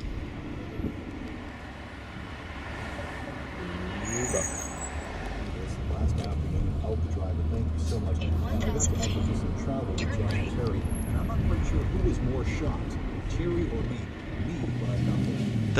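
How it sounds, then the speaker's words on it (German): An Uber car rides through Los Angeles toward the Fashion District. A low, continuous road rumble and cabin drone fill the ride with shifting traffic noise, and faint, muffled voices come through underneath. "Mittels der Uber-App haben wir uns einen Wagen bestellt. Wir fahren in den Fashion District."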